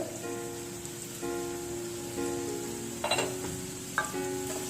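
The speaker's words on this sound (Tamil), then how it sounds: "வெங்காயம் நல்லா கோல்டன் ப்ரௌன் கலர் ஆகணும், அது வரைக்கும் வதக்கணும்." Onions sauté in a pan toward golden brown for a chutney, a soft continuous sizzle with occasional stirring clinks and scrapes close by.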